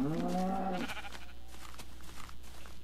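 A single wavering sheep bleat in the video game Minecraft, loud and close for about a second, then fading into quiet background rustle.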